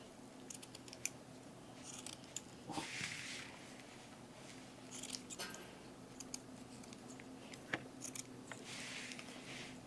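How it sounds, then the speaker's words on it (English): Scissors snip around a fluffy yarn pom-pom bunny tail, rounding it off with scattered quiet cuts and soft crisp clicks at irregular intervals, close and faint, with no talking. "And you just cut it and make sure it's nice and rounded off."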